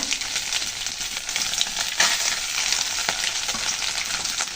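Eel fish frying in oil with already-fried potatoes, a dense, continuous crackling sizzle with a few stirring scrapes, close and steady, no one speaking.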